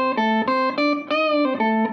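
An electric guitar played high on its upper strings runs through an octaver effect on a Boss Katana 100 MK1 amp. About eight quick picked notes follow one another with a buzzy, synthetic edge, sounding close and alone.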